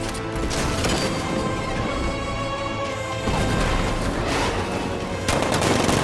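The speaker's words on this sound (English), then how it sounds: "60mm cannon operational." An unmanned tank's 60mm cannon fires in the Batman: Arkham Knight video game, set among dense, loud continuous gunfire and crashing impacts that keep up a thick barrage without pause.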